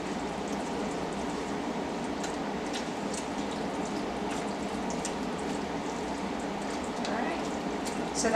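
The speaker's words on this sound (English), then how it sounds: "now we're going to let it simmer for about 20 minutes so that the sauce can cook through" Sloppy Joe sauce simmers in a pan with a soft, continuous bubbling and scattered small pops, steady and fairly quiet throughout.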